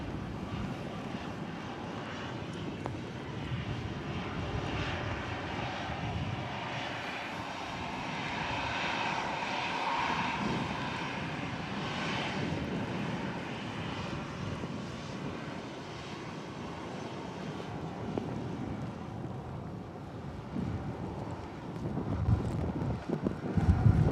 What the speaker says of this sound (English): we've just got the EasyJet just arriving in front of us here at the Runway Visitor Park